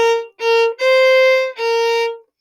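Solo violin plays two measures of a blues tune in four sustained bowed notes separated by short breaks, near and clear with no other sounds.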